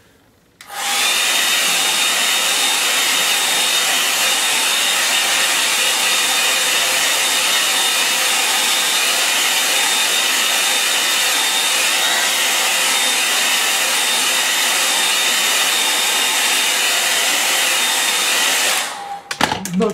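A hair dryer blows loud and close over wet paint on a landscape painting, a steady continuous roar lasting nearly twenty seconds before cutting off.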